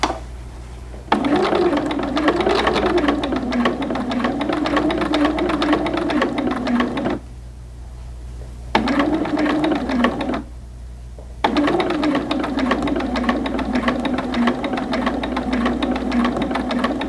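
Sewing machine running a long basting stitch along the raw edge of a pressed hem on doll pants, a steady close mechanical whirr in long bursts broken by two short pauses, no talking.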